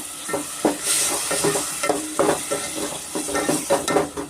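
Chicken biryani masala frying after tomato puree is added, with loud close stirring strokes, utensil scrapes against the pan and a continuous sizzle, no voices.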